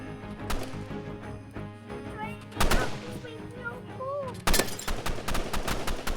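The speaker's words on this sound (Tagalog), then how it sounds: "Sino ba yung kupal na bumabaril na?" Gunfire in a video game, sharp single shots and short bursts popping at intervals over a continuous game soundtrack, with a voice talking now and then in between.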